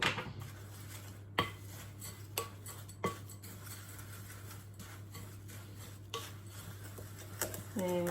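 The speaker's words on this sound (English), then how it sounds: "So first of all, we're going to mix the dry ingredients together." Oats, cocoa and sugar stirred together in a bowl: quiet scraping and stirring with several sharp spoon-on-bowl clinks at irregular intervals over a steady low hum, with a voice briefly heard at the end.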